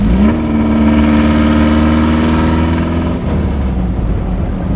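A 1.3-litre flat-four engine revs hard while driving in a low-slung car, a loud steady drone that climbs in pitch then drops as the throttle eases near the end.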